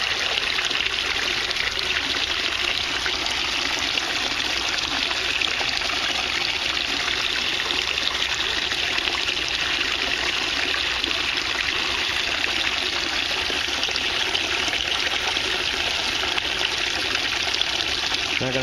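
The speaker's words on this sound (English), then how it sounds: "Alright, so we got 5 streams coming back into there." Several streams of water pour back into an aquaponics tank, making a constant, dense splashing and trickling rush that stays steady and loud throughout the whole stretch, with no pauses.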